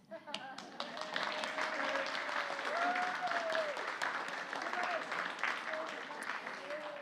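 An audience at a live-streamed Westminster Lakeland gathering claps steadily for several seconds, the dense patter of hands filling the room while a voice rises briefly over it.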